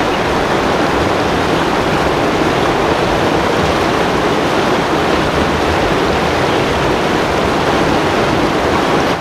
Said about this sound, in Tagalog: Problema lang, medyo malakas yung current ng tubig